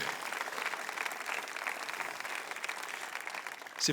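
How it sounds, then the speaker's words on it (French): A church congregation applauds during a French-language sermon, a steady wash of many hands clapping at moderate level throughout, swelling slightly louder at the very end. "Vous devriez applaudir."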